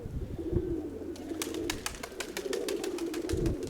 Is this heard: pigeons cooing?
yes